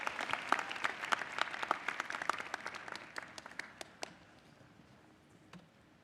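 Applause from a crowd at a 2018 Hunter College graduation ceremony, dense clapping that thins out and fades to scattered claps over about six seconds, moderately distant.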